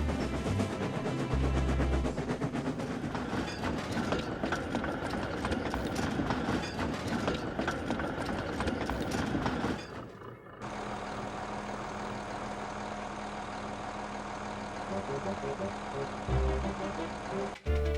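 A train passes a level crossing with loud, dense rolling rumble and rattling wheel noise that cuts off abruptly midway, leaving a steadier, quieter engine hum.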